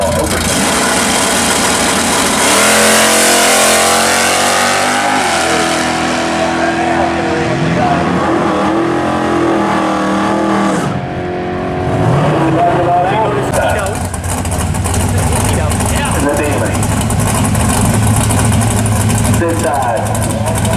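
An AMC AMX revs at the drag strip during an AMC car day at Edgewater Sports Park, its loud mid-pitched engine rising and falling through repeated revs and idling, with other engines around and people talking over it.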